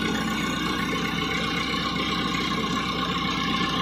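A tractor engine runs steadily at a constant idle-like drone, a dense, even mechanical hum with no breaks, near and fairly loud, on a hot day while the tractor is used for watering.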